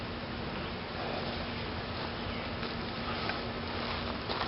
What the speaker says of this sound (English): there are tons and tons of bees underneath there waiting for a drink